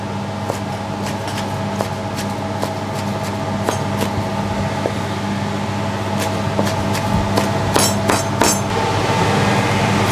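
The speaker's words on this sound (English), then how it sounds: "we mix on together and chop more, make it fine" Knife chopping ingredients finely on a board for a Thai chicken rice (khao mun gai) sauce, a steady run of sharp knocks at an uneven pace, close by over a low background hum.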